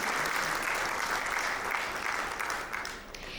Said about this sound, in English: let's have a big clap for all, because we announced the winner